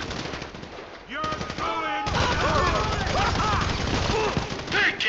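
Automatic gunfire in the Grand Theft Auto V video game erupts in sustained rapid bursts with echoing shots and ricochets, loud and continuous after a brief pause, while a voice talks underneath.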